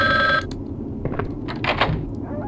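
Telephone ringing in the Resident Evil Survivor video game, a steady electronic ring at the start that cuts off, then scattered thumps and soft clatter with light game ambience.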